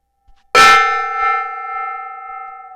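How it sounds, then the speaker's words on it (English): A gong struck once, close and loud, with a bright metallic attack and a long shimmering ring that sustains and slowly fades. "I'm going to hit this gong here."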